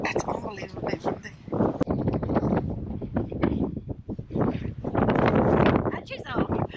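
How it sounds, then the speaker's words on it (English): Strong wind gusting outdoors in Northern Ireland in February, buffeting the microphone with loud, uneven roaring bursts, while people talk over it. "Very windy."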